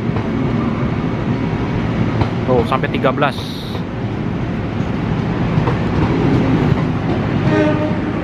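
Steady rumble of a passenger train passing through Jatinegara station in Jakarta with rhythmic rail clatter, a brief high horn-like squeal midway, and people talking over the noise.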